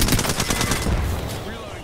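Rapid gunfire from a first-person shooter video game, a loud close burst of automatic shots in quick succession that fades out into the game's ambient sound.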